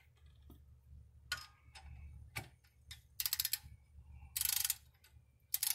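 Rear brake work on a 2003 BMW Z4: a ratchet wrench tightening a brake bolt to 11 foot-pounds, with several quick ratcheting clicks and bursts of rapid clicking, close and fairly quiet against a low background hum.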